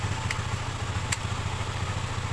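A motorcycle engine keeps idling after its ignition is switched off, a steady low throb with a faint even rhythm and a couple of brief metallic clicks, close and alone.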